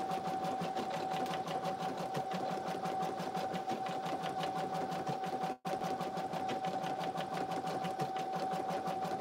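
An embroidery sewing machine stitches slowly through vinyl, its needle beating in a steady, even rhythm close by, with a sustained motor whine and one very brief break partway through.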